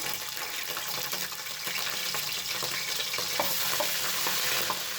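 Steady, close sizzling of ginger garlic paste frying in hot oil for beef korma, a continuous crackle with occasional small pops and faint clinks, no voices.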